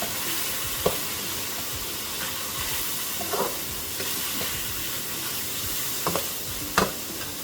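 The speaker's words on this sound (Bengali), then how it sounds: "ধনিয়া, জিরা দিয়ে আমি একটু কষিয়ে দিই।" Chicken sautéing in a pan with coriander and cumin gives a steady, faint sizzle, with a few brief stirring scrapes and clinks scattered through it.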